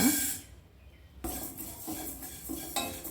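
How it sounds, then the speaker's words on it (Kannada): Urad dal stirred and roasting in a frying pan on a low stove flame, with metallic scraping of a spoon against the pan in short repeated strokes, close and moderately loud. "ಫಸ್ಟು ಉದ್ದಿನಬೇಳೆ ಹುರ್ಕೊಳ್ಳೋಣ"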